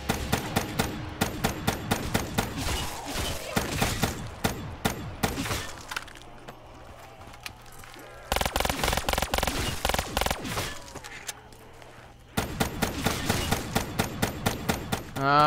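Gunfire in Black Ops 3 Zombies on Zetsubou No Shima, rapid repeated shots in long loud bursts separated by short lulls filled with lower game noise.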